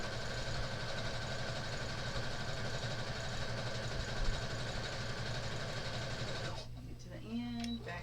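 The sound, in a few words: sewing machine back stitching a tote bag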